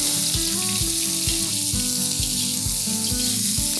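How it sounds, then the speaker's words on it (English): Finely chopped onions hitting hot oil with cumin seeds, a steady loud sizzle running throughout alongside faint clinks and background tones. "We'll add 4 onions that are finely chopped."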